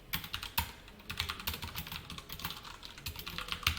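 Computer keyboard typing CSS code, quick uneven clicking keystrokes close to the listener, steady and moderately soft, with no talking.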